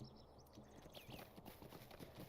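Horse hooves clip-clopping at a steady trot in Lord of the Rings Online, a close rhythmic run of hoof strikes over a faint background tone with a short high chime near the start.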